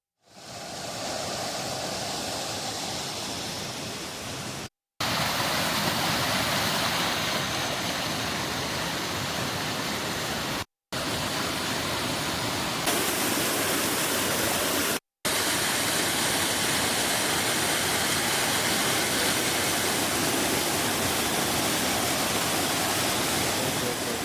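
Yellow-coloured water rushes along the Noyyal river near Karur as a loud, continuous broadband roar, broken by a few abrupt cuts.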